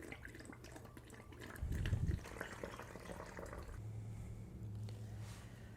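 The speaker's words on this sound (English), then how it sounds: "I'm going to fill my little filler bottle up with some distilled water" Distilled water pours and gurgles into a small battery filler bottle for topping up golf cart batteries, a soft, close liquid trickle with a brief louder glug partway through.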